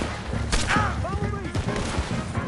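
Gunfire in the Red Dead Redemption 2 video game, a dense burst of overlapping shots with shouted voices over loud continuous action.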